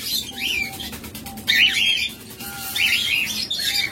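A pair of lovebirds chirp and squawk in shrill, repeated bursts close by, the calls coming in quick clusters over a steady low background hum, with no voices.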